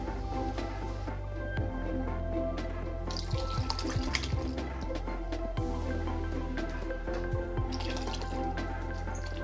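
Liquid fertilizer made from kitchen waste is poured into a container holding two to three litres of water, producing close, continuous splashing and dripping over a low steady hum.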